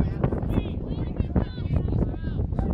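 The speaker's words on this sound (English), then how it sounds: "It's very windy here. I don't know if you can hear the wind." Steady low rumbling wind buffeting a microphone at an outdoor college ultimate frisbee game, loud and continuous, with a person talking over it throughout.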